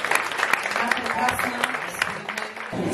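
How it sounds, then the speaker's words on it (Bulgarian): Applause from a concert audience, a dense wash of clapping that fills the short stretch, with a voice speaking briefly over it. "Аплодисменти още веднъж."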